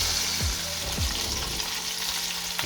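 Bacon strips frying in a pan, a dense close sizzle that continues steadily, with a couple of low thumps from the pan.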